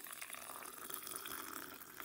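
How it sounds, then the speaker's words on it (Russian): Tap water poured over 50 grams of flax seeds being soaked, a steady close splashing stream of running water that continues throughout with no talking. "Взяла 50, 50 миллиграмм льна и заливаю водой"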